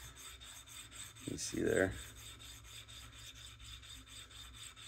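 Rubbing and scraping against a coated brass cube to strip the surface layer, a close, brief burst of rasping about a second long against a quiet room background, with a short remark spoken nearby.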